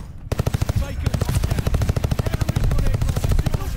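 A Welgun submachine gun in Call of Duty: Vanguard fires in a long rapid burst of evenly spaced loud shots, close and continuous for several seconds, with someone speaking beneath it.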